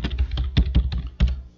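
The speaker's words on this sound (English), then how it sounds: "notice what I'm doing when I'm typing" Keystrokes on a computer keyboard while coding, a quick irregular run of close, crisp taps with no voice over them.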